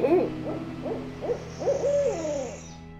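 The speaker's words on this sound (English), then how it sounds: "Owls hoot louder in the fall while searching for a place to nest during winter." An owl hoots in a short run of about six or seven rising and falling calls, fairly close and clear over a quiet low hum, with a faint high hiss near the end.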